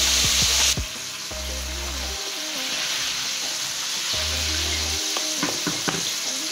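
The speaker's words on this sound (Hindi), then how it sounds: "स्लो फ्लेम पर हम इसको डीप फ्राई करेंगे।" Chicken nablets deep-fry in hot oil over a slow flame, a steady close sizzle and bubbling with a few low hums and faint clicks, no talk.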